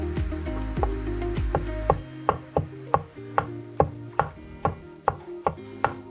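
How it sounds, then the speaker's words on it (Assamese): A knife finely chops a tomato on a board. Quick, dense cuts come first, then a dozen sharper, evenly spaced chops, close and clear with no talk. "মিহিমিহিকৈ বিলাহীটো কাটি ল'লোঁ।"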